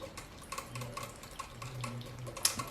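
Smudge, a seven-year-old pet, laps water loudly in a steady run of wet, repeated slurps and small splashes, close by with no talking.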